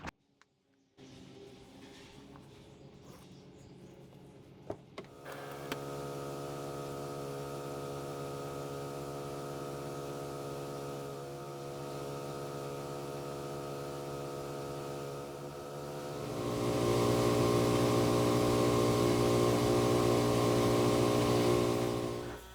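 After a few faint clicks, a pressure washer engine starts and runs as a steady, droning hum with a strong tonal pitch, then grows noticeably louder and rougher for the last several seconds.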